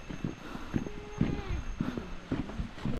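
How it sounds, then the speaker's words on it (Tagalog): Horse hooves clip-clop on a road in Zakopane, a handful of irregular hoof strikes close by, with people talking over them. "ayun na yung kabayo"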